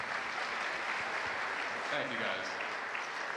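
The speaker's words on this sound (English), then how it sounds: "So big round of applause for the staff." Audience at a university family orientation in an event center applauding for the dining hall staff, steady even clapping throughout, moderately distant and fairly quiet, with a brief spoken thanks over it.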